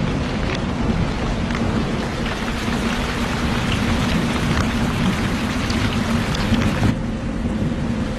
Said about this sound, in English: The rains finally return, bringing much-needed relief to the parched earth.